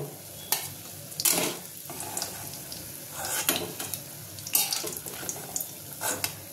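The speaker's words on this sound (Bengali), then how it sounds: "ডিমগুলো আমি ভেজে নেব" Eggs fry in hot oil in a kadai, a steady sizzle broken by repeated louder bursts of spattering and stirring, with no speech over it.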